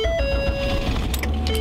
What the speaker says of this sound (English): From warming up the car